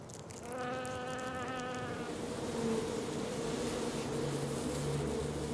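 Wasps buzz around their paper nest, a close, steady insect drone with a higher buzzing layer in the first two seconds, then a continuous lower hum.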